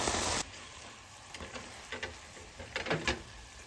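Brinjal (eggplant) in hot oil stirred in a pot after the lid comes off, a soft steady sizzle broken by a few scraping stirs near the end, quiet and close with no talking.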